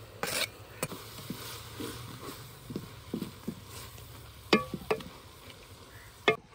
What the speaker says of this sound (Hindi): कसूरी मेथी को कढ़ाई में डाल लेंगे।